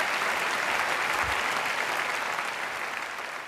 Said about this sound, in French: il est applaudi à tout rompre par la salle après avoir dit ça